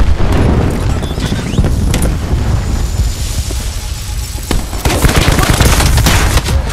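Dense, rapid gunfire from a Team Deathmatch match in the Call of Duty Black Ops 4 private beta, loud bursts and booming shots overlapping almost continuously without pause.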